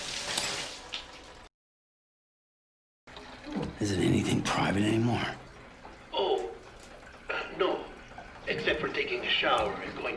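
Running water from a shower and toilet in the video game Death Stranding, splashing and gurgling near and moderately loud, broken by a brief silence, with voices talking over it.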